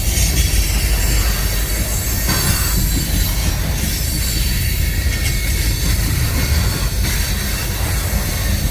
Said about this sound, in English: Intermodal stack train.